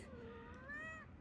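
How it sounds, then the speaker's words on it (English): A single cat gives one drawn-out meow with a rising, wavering pitch, faint and close-ish, heard outdoors along a hiking trail. "We are with Smokey the cat"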